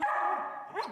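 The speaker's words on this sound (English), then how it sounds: "the dog with the world's friendliest bark" A Swedish Lapphund barks close by, one sustained yowling bark followed by a short second yip, with nothing else audible.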